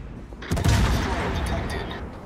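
Heavy warship guns boom in a World of Warships battle aboard the tier 10 cruiser HNLMS Gouden Leeuw, a sudden close salvo with a rumbling tail under faint voice.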